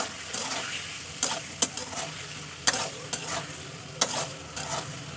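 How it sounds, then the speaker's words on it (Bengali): Ginger garlic paste and potatoes sautéing in hot oil make a close, continuous sizzle, punctuated by several sharp spatula scrapes and clicks against the pan. "আদা রসুনটা দেওয়ার পর ভালো কষিয়ে নেবো তেলের উপরে"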